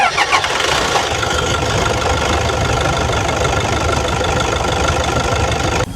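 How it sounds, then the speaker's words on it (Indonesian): A 2015 Toyota Fortuner TRD Sportivo diesel with automatic gearbox and VNT turbo cranks briefly and then fires, settling straight into a loud, steady, close rumbling idle with no voices. "Unitnya kita starter aja."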